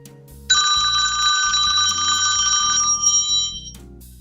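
An electronic telephone ringtone trills steadily for about three seconds over a low, rhythmic music bed, then stops.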